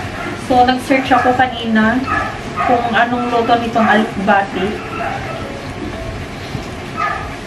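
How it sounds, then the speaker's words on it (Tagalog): A dog barks and yips repeatedly, close by, over a person talking, with a few whimpering barks trailing off. "Pasensya na kayo sa ingay ng aso."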